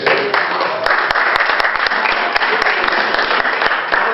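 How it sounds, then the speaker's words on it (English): Retirement-day clapping from a group, a steady dense patter of hands that holds evenly throughout, fairly close and loud with no talk over it. "now clapping"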